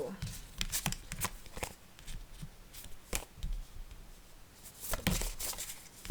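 Tarot cards being shuffled and drawn, a series of quick papery riffles and flicks in irregular bursts, close and fairly clear, with brief moments of speech between them.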